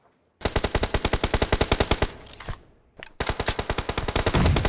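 Automatic weapon fire in the mobile battle royale game PUBG Mobile crackles in loud, rapid bursts, a long spray, a brief break with a single shot, then another sustained volley, close and dominant.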